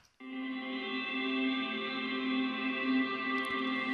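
Guitar notes smeared through a fully wet, large-room reverb plug-in, individual picks dissolving into one sustained, shimmering wash that holds steady at moderate volume for several seconds.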